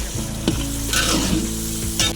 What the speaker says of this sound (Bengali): বন্ধুরা এবার কালো সরিষা বাটাটা আমরা ঢেলে দেবো।